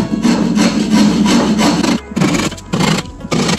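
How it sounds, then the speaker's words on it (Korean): A hand saw cuts through wood in steady, loud back-and-forth strokes along a marked line for a hinge recess, with a couple of brief pauses between bursts of rasping. "톱으로 이 선까지 톱질을 해주는 걸세."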